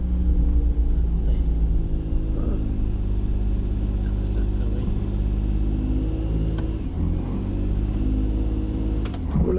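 A small-engine car strains to climb a steep road, its engine droning low and steady throughout with slight shifts in pitch as it labors, while people talk over it.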